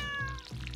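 A cartoon cat meows inside the Stardew Valley farming game, one short drawn-out tonal call over soft game music, clear and close.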